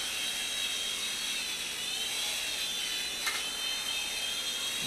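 A World Tech Toys Mega Hauler drone flies with a steady, high-pitched buzzing whine of its small propellers, close by and holding an even level throughout with no talk.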